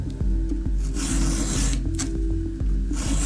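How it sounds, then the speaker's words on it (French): A file rasps across the cutting teeth of a McCulloch chainsaw chain in steady forward strokes, giving loud, close, continuous scraping with a regular rhythm of repeated passes and no speech. "Limez toujours vers l'avant avec des mouvements réguliers et continus."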